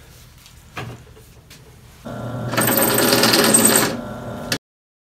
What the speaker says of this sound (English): once you get all your 7 rivets drilled out